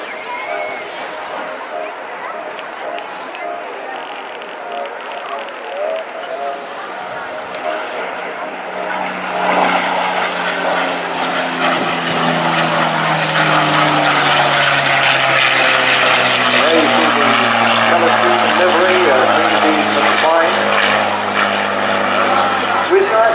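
A vintage propeller aircraft flying display turns and gentle rolls, its engine drone swelling from a distant hum to a louder, rising and falling roar that continues steadily through the clip.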